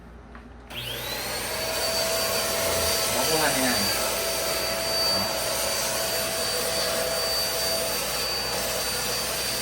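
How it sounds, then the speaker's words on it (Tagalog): A vacuum cleaner sucks dust out of an air conditioner with a loud, steady whine that starts abruptly and runs unbroken. Someone speaks briefly under the noise. "Vacuum lang siya. So, hindi nakakalat yung alikabok sa bahay mo."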